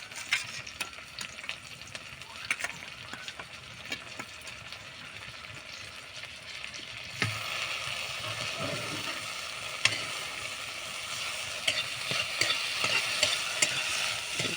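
Ground green chilies, mustard, cumin and black cumin hit hot oil with fried onions in a pan, giving a soft steady sizzle with occasional stirring scrapes that grow a little louder and busier halfway through.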